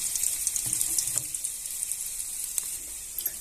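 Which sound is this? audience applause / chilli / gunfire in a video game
chilli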